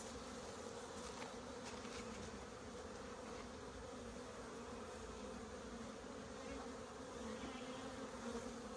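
Honey bees crowded in a three-frame nucleus hive give off a steady, dense buzzing hum that holds close and even throughout, with no voices.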